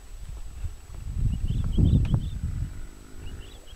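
A herd bull on the Serengeti's Western Corridor gives short roaring barks from nearby, while the herd's hooves thud and shuffle and brush rustles underneath. The calls come in brief bursts over the trampling noise.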